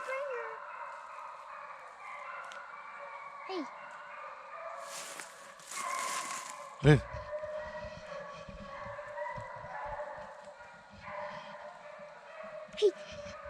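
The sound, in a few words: hunting hounds barking during a deer dog drive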